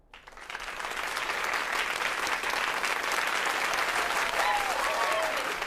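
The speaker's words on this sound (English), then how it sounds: "Is all that applause for me?" Cartoon audience applause that swells in quickly and holds as a dense, continuous clapping crowd.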